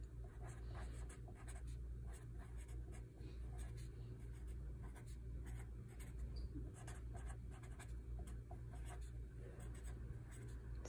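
Pen or pencil scratches steadily on paper in quick, continuous strokes, faint and close, over a constant background hum with no talking.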